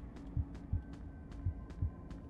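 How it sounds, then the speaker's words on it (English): A gentle, steady heartbeat from the FNAF: Into the Pit video game, soft low thumps in an even rhythm over a faint hum, about four beats across the span with no talking. "it has a gentle heartbeat right now"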